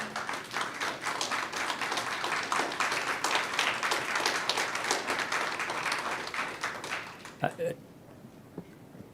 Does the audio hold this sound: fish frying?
no